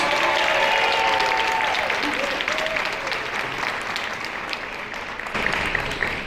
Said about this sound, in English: So let's give them a round of applause in advance.